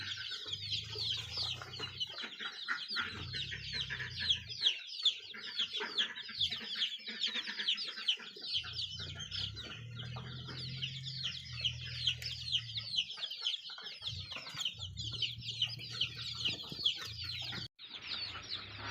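Laying hens cluck steadily and repeatedly at close range, a busy chatter of short calls over a low, intermittent hum.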